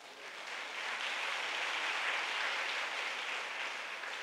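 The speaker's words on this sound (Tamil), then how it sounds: "நல்லா கைத்தட்டுங்க." Audience applause in a church meeting hall, a dense, even wash of many hands clapping, steady and moderately distant for about four seconds with no voices.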